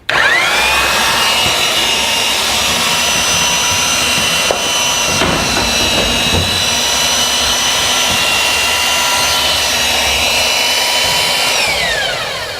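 A power seamer runs along a Maxima standing seam metal roof panel, a loud, steady high motor whine close by, with a faint clunk midway and the tone falling as it winds down at the end.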